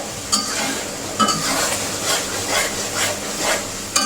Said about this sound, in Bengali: দেখো মশলাটা আমি কত সুন্দর করে কষিয়ে নিতেছি